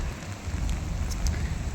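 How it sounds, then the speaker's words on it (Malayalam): Steady, dense rain pours down outdoors at Kanakakunnu in Kerala, a constant broadband hiss with scattered droplet taps, no voices. "അയ്യോ, നല്ല മഴയുണ്ട്."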